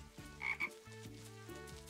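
A frog croaks in a forest, giving two brief throaty calls over a soft, steady background. It sounds faint and somewhat distant, with no voices.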